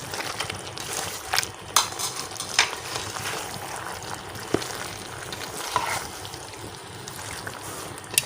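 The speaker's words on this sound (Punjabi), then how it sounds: "ਇਹਨੂੰ ਅੱਛੀ ਤਰ੍ਹਾਂ ਮਸਾਲੇ ਦੇ ਵਿੱਚ ਮਿਕਸ ਕਰੋ।" Chicken and spices are stirred in a pan, giving a soft sizzle with irregular scraping clicks and spatula knocks, close and fairly quiet with no talking.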